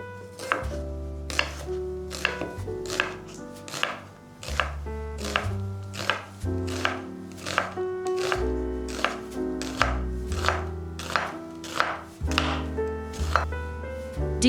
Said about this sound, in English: I'm slicing the onion.